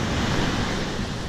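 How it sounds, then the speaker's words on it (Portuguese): Strong ocean waves break on a beach in a steady, loud, broadband roar of surf with some wind rumble, close and continuous throughout, with no voices. "mas quebra muito forte essa onda aí"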